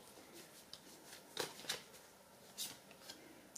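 Marseille tarot cards handled and drawn: a few soft, close rustles and slides of card stock, with three clearer flicks standing out against a faint hiss, no talk.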